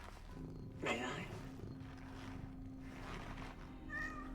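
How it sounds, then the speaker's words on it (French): A cat in Cronos: The New Dawn gives one clear rising meow, followed later by a fainter, shorter mew over a low steady hum. "Ah, un deuxième chat."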